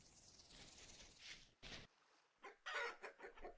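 A chicken in a snowy survival video game gives a few short, faint clucks in scattered bursts against near silence.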